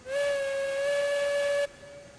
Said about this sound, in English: And blow the whistle here for some good luck.